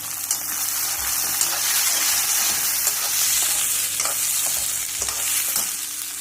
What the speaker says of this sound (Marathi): ते मिलेट्स पण भाजायला घालणार, बारीक गॅस करून भाजून घेऊ.